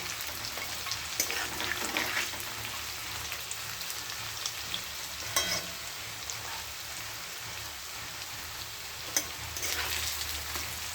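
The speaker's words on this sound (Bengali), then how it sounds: "ভাজাটা হচ্ছে, বড়াটা রান্নাটা হয়ে গেলেই মনে হয় কি সব কাজ হয়ে গেল।" Bora fritters frying in a pan give a steady, dense crackling sizzle that runs the whole time, broken by a few sharper pops, with no talking.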